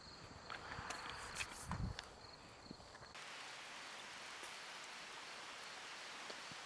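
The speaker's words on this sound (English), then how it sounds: "It's raining." Rain falls at a campsite on the Peter Mills Run beside a Jeep Wrangler, a faint steady patter with a few soft taps and knocks early on, then an even hiss, distant and quiet with no talking.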